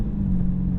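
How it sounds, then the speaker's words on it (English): Dodge Charger Pursuit police car engine in a kickdown, a steady loud low rumble with a droning tone holding through the brief moment, no voices. "All right, so now let's do a kick down."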